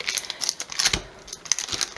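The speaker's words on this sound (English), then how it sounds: "So just going to unwrap it." Packaged mozzarella cheese being unwrapped for a pasta salad, giving close, busy crinkling and tearing of plastic wrap in quick irregular bursts, with no talking.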